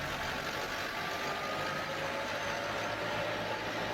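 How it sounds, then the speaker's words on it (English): Steady mechanical drone of a heavy automatic straw-spraying machine's engine, a dense continuous rumble and hiss at even level with no clear pulses, heard alone without talk. "Here comes another automatic straw spraying machine"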